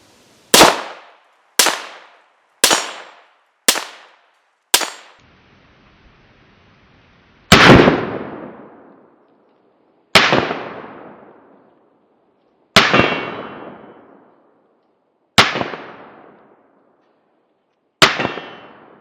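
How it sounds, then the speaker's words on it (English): A Walther P38 pistol fires downrange, ten sharp, loud shots with ringing decays: five in quick succession, a brief pause, then five more spaced evenly and more slowly. "Just for fun, I'm going to throw some rounds downrange with this P38."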